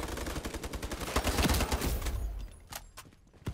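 A SCAR rifle fires in the online shooter Ironsight, a fast run of loud, punchy shots for about two seconds, then the shooting breaks off into a few scattered, fainter pops.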